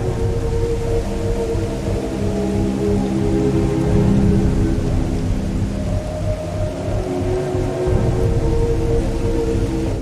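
Steady rain falls in a scene from the movie Sleepwalker, a dense continuous wash of drops with low rumbling undertones, loud and unbroken throughout with no talking.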